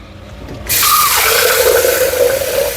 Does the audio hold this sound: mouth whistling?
no